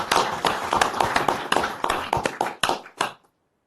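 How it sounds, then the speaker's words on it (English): An audience at a regular government board meeting applauds award recipients, a short round of fairly sparse, distinct hand claps that thin out and stop abruptly, leaving silence. "Let's give all of the recipients a round of applause."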